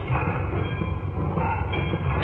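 A train rumbles along the tracks with a steady low roar and faint metallic squeal, heard at moderate distance without talk.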